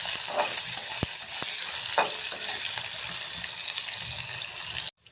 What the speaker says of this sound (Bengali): মাছটা এখন উল্টে নিই।